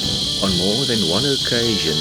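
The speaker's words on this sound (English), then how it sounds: "The angle grinder sound you hear is made by cicadas." Cicadas in Botswana give a loud, steady, high-pitched buzz like an angle grinder that runs through the whole clip while someone talks over it.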